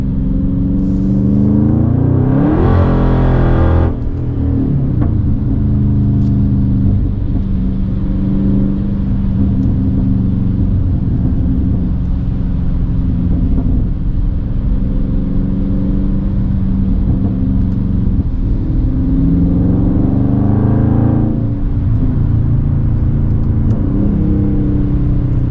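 A Dodge Charger widebody Scat Pack pulls hard on a rainy road, its engine rumbling steadily and swelling into two rising revs, close and loud with no talk over it.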